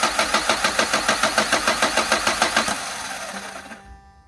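Renault Megane 2 1.5 dCi diesel engine with one cylinder misfiring from a faulty injector, idling in a fast, evenly pulsing chug before winding down and going quiet, recorded close up.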